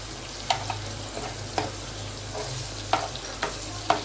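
Crushed garlic and tomatoes frying in oil for a potato curry, a steady close sizzle broken by a few soft clicks of stirring, with no voices.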